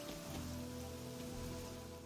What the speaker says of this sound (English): Standing out in the rain.